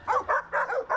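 A dog barks five times in quick, evenly spaced bursts, loud and close, with no voices around it.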